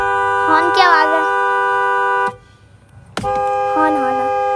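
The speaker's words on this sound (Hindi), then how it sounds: "हॉर्न की आवाज है" Vehicle horn honking in a guess-the-sound game: a sustained tonal blare with strong harmonics, broken by a short gap and then sounding again, with children's voices talking over the start and end.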